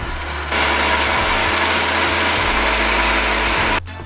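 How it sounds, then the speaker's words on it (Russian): A kitchen blender on a food processor base purees soft stewed fruits and vegetables, a steady, loud motor whir that kicks in after a brief start and runs for about three seconds before stopping. "Закрываем крышку и блендерим."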